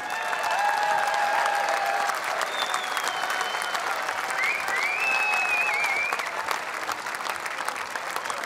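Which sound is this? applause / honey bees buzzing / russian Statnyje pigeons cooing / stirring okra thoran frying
applause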